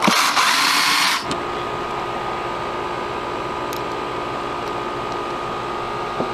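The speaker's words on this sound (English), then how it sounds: "I need to turn the power down to the drill." Power drill with its power turned down driving screws into plastic fairing on a 2019–2021 Kawasaki ZX6R motorcycle: a loud steady whine for about a second, then a continuous lower motor hum to the end.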